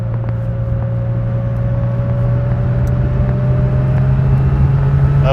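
A 1989 Porsche 930 Turbo with roughly 350 horsepower, heard from inside while driving as a loud, steady low engine drone with a faintly rising tone and no speech.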